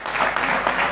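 An audience at a year-end ranch cattle auction gala claps loudly and continuously, a dense burst of applause with no voices over it.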